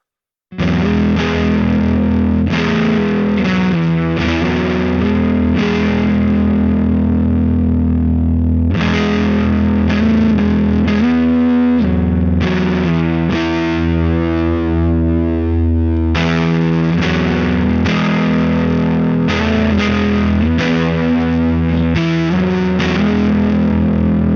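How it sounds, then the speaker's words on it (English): Baum Vega Verve Telecaster-style electric guitar played through the neck pickup with fuzz, thick saturated chords and sustained notes strummed in phrases, loud and continuous with no voices. "Let's put some fuzz on and hear that neck."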